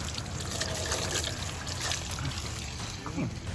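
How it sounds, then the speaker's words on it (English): A water hose rinses a freshly washed vehicle after a mountain trip, a steady trickling and splashing spray running continuously at close range, with faint voices underneath. "you hose it off"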